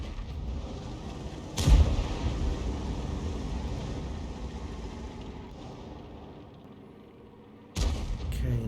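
An M53/M55 self-propelled artillery gun in World of Tanks fires two heavy, booming shots several seconds apart, each a sharp loud blast with a rumbling tail over a steady engine drone.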